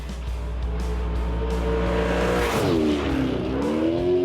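A Chevrolet Corvette Z06 with bolt-on upgrades runs hard on a race track, heard from on board as a loud, steady engine drone that rises, dips and climbs again through a shift, with faint tire noise.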